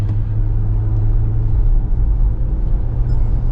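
Mahindra Scorpio-N automatic SUV engine droning steadily under load as it accelerates, a continuous loud low rumble with no clear break for an upshift, no talk.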